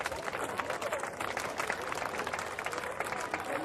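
A crowd at a 1988 strongman competition claps steadily for a competitor, a dense, moderately distant wash of many hands under the event's ambience.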